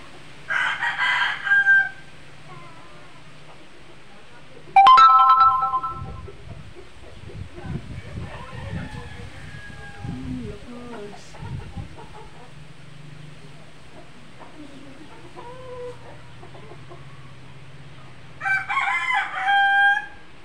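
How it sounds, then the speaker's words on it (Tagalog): Pet roosters crowing loudly nearby in a couple of long calls, one at the start and another near the end, with a third brief crow midway, over steady strong wind noise and some handling sounds. "tapos nagtitilaukan ang mga manok na alaga ng aking pamangkin"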